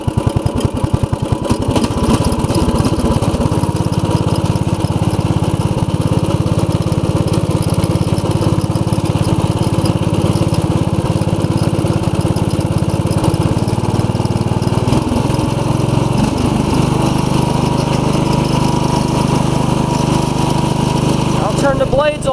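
A Craftsman riding mower engine runs steadily at a loud idle throughout, a constant close mechanical drone with slight shifts in pitch near the end.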